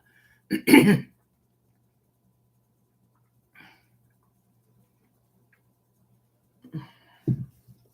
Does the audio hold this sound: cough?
yes